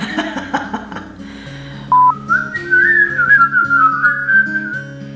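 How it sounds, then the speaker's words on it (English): A person whistles a wavering, sliding tune up close, loud and clear over light background music, after a few seconds of soft murmuring. "Let's not whistle."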